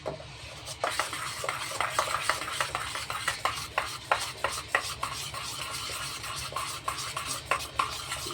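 Close, repeated scraping and clinking of a utensil stirring and mixing ingredients in a bowl, with a steady rhythm of strokes and small knocks against the bowl, no talk.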